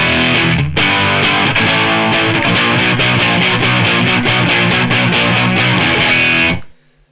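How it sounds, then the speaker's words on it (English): Electric guitar played through a Zoom Ultra Fuzz UF-01 pedal with gain at about halfway and tone rolled fully down, giving a thick, buzzy fuzz distortion; loud strummed chords ring out for several seconds after a brief gap, then cut off. "kind of bog standard fuzzy distortion thing happening there"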